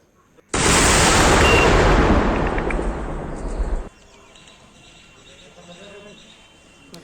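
A detected IED in Pulwama is set off in a controlled blast: one sudden, very loud burst that holds as a rumbling, crackling roar for about three seconds, then drops away abruptly to quiet background noise.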